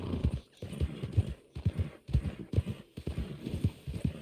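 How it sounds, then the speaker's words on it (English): Race horse hooves clip-clopping in steady galloping bursts with an occasional neigh, from the video game Red Dead Online, fairly close and clear with no talk over them. "The race horses. Not a huge fan of them. They're quick."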